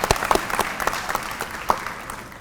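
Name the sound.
audience clapping for them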